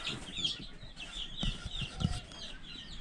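A speckled Sussex hen and a black copper Maran rooster cluck and murmur quietly over a few seconds, a scattered series of soft calls with light background rustling.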